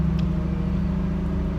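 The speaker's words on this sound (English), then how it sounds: "They're starting up cars and stuff." Cars starting up and idling in a residential neighborhood, a steady low engine rumble with a faint hum, heard at some distance and continuous throughout.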